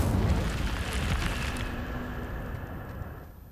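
A fire spell, Incendio, cast in the video game Hogwarts Legacy: a loud roaring, crackling burst of flame that surges at once and then fades slowly over a few seconds, with no voices.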